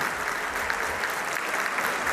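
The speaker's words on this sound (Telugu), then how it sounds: "దయచేసి చప్పట్లు కొట్టండి" An audience at a family reunion gathering claps together in a dense, sustained round of applause, steady throughout and filling the room.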